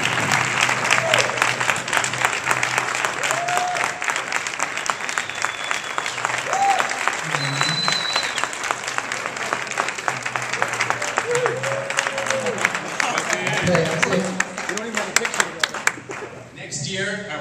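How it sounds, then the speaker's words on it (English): A standing audience at a running club's appreciation night claps continuously in a sustained, even wash of applause, with voices and cheers rising above it at times. "let's give a round of applause for the three guys that made us so happy"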